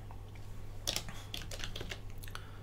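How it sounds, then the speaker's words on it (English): Quick bursts of computer keyboard typing, close and moderately quiet over a steady low hum, with a cluster of keystrokes in the middle and scattered taps after. "Just start typing."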